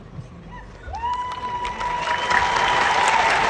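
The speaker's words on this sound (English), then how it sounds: "So he's on stage, they're clapping for him." Audience clapping for a commencement speaker on stage, crowd applause and some cheering building steadily louder, with a sustained whistle-like tone rising above the crowd noise partway through.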